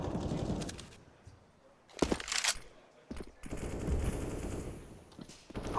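Bursts of automatic gunfire in Counter-Strike on the Nuke map during a pro match, several rapid volleys with gaps between them, loud and close.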